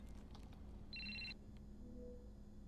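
A telephone from The Batman film rings once: a brief electronic trill rises over a low, constant background rumble, then stops.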